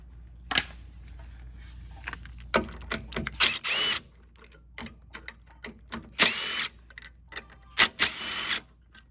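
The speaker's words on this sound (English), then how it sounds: "just pulling the carburetor off" Clicks, scrapes and short metallic rattles as the carburetor is worked off a Craftsman self-propelled lawn mower, with irregular bursts and several louder ratcheting passes, close up and without talk.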